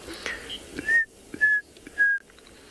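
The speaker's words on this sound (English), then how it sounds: "I can just hear the calling of a chin spot battus." A chinspot batis in South African bush gives three clear, evenly spaced whistled notes, each short and slightly falling, moderately near against a quiet background.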